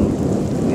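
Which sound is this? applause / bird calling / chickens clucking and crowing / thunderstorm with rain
thunderstorm with rain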